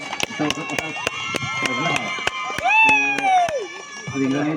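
Crowd at a kabaddi final match in Khandale, with loud applause and cheering, plus sharp claps and whistles, beneath an excited commentator talking over the noise.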